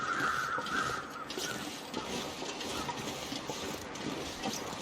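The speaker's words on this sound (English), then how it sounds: "And a bunch of birds around" Crows cawing in the snowy wilderness of The Long Dark video game, several harsh calls early on then fainter ones, over a steady windy background.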